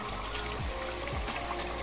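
Water poured from a glass into a pan of potato and pea curry with fried masala, a steady close trickling and splashing flow with no voices.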